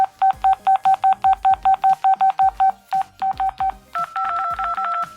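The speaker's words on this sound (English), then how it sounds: "all the buttons and everything sound much louder" A quick series of loud, short keypad tones from a 2006 Motorola W315 mobile phone on loudspeaker in steady rhythm, a few slower presses, then faster tones at a different pitch.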